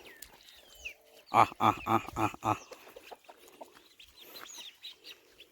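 Ducks run off across farmland, letting out a quick burst of about five rhythmic, nasal calls at moderate distance, then quieter scattered sounds and faint background noise.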